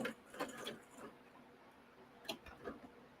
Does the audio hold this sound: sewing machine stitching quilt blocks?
yes